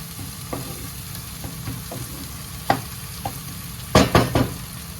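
Spices being stirred and fried in a pan for Punjabi chicken, with a low steady sizzle broken by scattered scraping stirs and a cluster of sharper clatters near the end; no voices.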